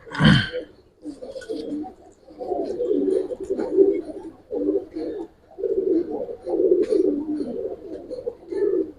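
Silver-necked and green-necked coloring pigeons coo in a loft, a steady run of low, throaty, rolling coos close by, opening with a short sharp sound and continuing without talk.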